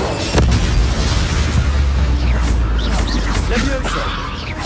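Bombarda explosion spell in Hogwarts Legacy, a loud booming blast with heavy low rumble at the start, followed by crackling debris and game effects that continue throughout.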